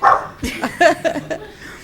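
Several sharp dog barks and yips at a county commissioners' meeting, fairly close and loud, coming in an irregular burst with a faint voice underneath.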